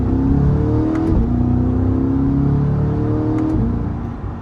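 A Corvette C8 engine accelerating smoothly, a steady low drone rising in pitch with a couple of quick gear shifts, heard from inside.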